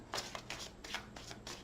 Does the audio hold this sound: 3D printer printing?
no